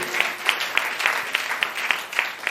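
A church congregation claps together in a steady, roughly regular rhythm, a bright spread of many hands striking about three times a second, reverberant and moderately loud throughout.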